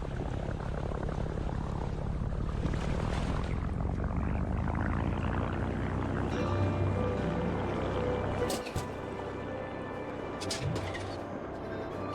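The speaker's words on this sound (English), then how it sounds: "Hold the ignition button to start up the plane." A propeller plane's engine starts up in a video game, a steady droning whir that builds into a firmer, humming tone partway through, with a couple of sharp clicks near the end.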